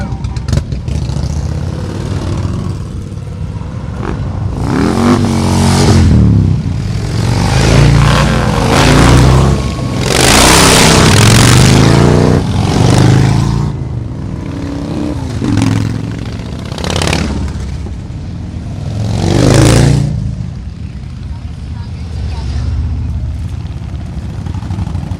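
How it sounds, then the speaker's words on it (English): Motorcycles and classic cars roll out together at the start of a memorial ride honoring first responders, military and veterans. Engines rumble and rev in waves, with passing swells rising and fading over a steady crowd hubbub, and people talk throughout. "the motorcycles go out first, then we got the classic cars, followed up by the"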